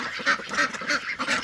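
Domestic ducks on a Philippine backyard farm where the birds have started laying eggs give a run of loud, nasal quacks close by, about four bursts in a steady rhythm with no talking.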